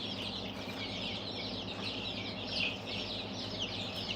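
Newly hatched chicks and ducklings chirp in a dense, continuous chorus of high peeping over a steady low hum, close and fairly loud throughout.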